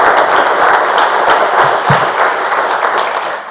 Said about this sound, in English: I'd invite everybody to give Stephanie a hearty round of applause for pushing this